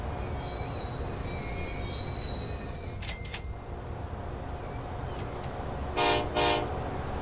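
In the Transport Fever game, a train rumbles steadily along the rails with a high wheel squeal, then short bursts of horn toots near the end, loud and alone without talking.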